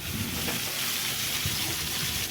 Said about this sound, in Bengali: তারপরে কড়াইতে একটু তেল দিয়ে দিলাম